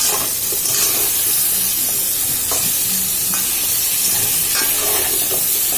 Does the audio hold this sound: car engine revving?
no